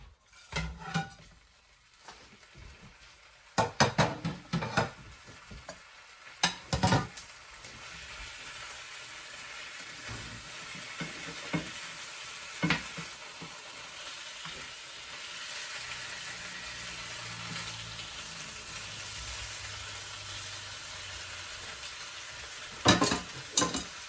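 Fish frying in a hot pan for escabeche gives a loud, continuous sizzle close up, broken by sharp clatters of a utensil against the pan as it is stirred and moved, with no voices.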